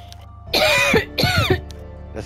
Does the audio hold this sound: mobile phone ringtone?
no